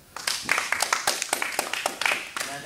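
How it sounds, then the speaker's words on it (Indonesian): A small classroom group claps for group 2 in quick, uneven, fairly close handclaps that keep going steadily for a couple of seconds. "terima kasih untuk kelompok 2, berikan aplaus ya"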